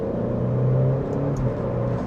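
Alfa Romeo Giulia engine pulling under acceleration, a steady low droning rumble with a faint rising tone, heard from inside the car, continuous and fairly loud.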